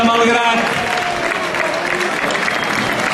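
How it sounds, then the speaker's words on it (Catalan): Dense, loud applause fills an outdoor festival square for the giant dancers from Malgrat, steady clapping throughout with a voice speaking over it at the start. "Un fort aplaudiment per la gent de Malgrat"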